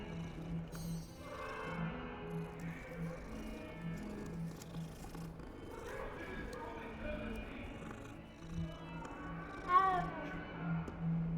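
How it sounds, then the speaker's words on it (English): A cat meows a few times within the Hogwarts Legacy game world, soft calls heard beneath steady talking and game ambience. "Ooh, is that a cat?"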